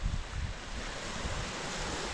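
Ocean waves washing onto the Easter Island shore with steady broadband surf roar, close and loud, and wind buffeting the microphone throughout.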